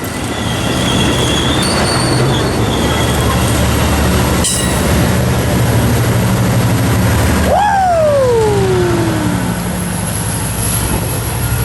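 An eastbound freight train rushes through Fullerton on track 4, a loud continuous roar of rolling cars and wheels with a sharp rising-then-falling wheel squeal partway through, close by and steady throughout.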